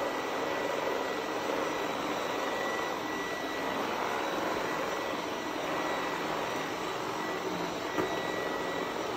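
A Cobbold VB100 floor scrubber runs with water on the floor, giving a steady, loud motor and suction whine that stays constant, with no voices.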